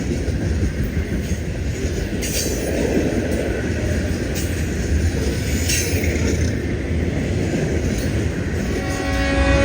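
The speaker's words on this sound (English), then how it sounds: "this Union Pacific manifest hauls off for Davidson Yard just a few miles ahead" Union Pacific manifest freight train pulling away toward Davidson Yard, a loud continuous rumble of rolling cars and wheels on rail, with faint horn tones near the end.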